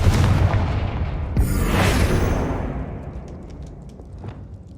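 A Confringo fire spell blasts in Hogwarts Legacy, a loud booming explosion that rolls and decays over a few seconds, with a sharper burst partway through and faint crackling debris as it fades.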